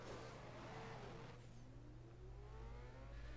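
Jet car engine whirring and revving in the Jet Car Stunts 2 mobile game, a steady hum with rising pitch sweeps, fairly faint and continuous.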